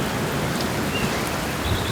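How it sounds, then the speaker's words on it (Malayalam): Steady broadband hiss of rain falling continuously, even and unbroken throughout, with no voices. "ഉടൻ തന്നെ ശക്തമായ കാറ്റും മഴയും ആരംഭിച്ചു"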